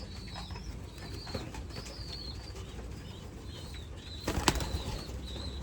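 Young racing pigeons in a loft coo softly and repeatedly against a low rustle, with a short burst of wing flapping near the end.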